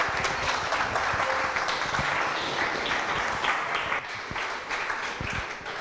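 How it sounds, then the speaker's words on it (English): An audience at a coding bootcamp graduation demo day applauds, a steady wash of many hands clapping at a moderate distance that eases slightly toward the end. "Let's give them another round of applause."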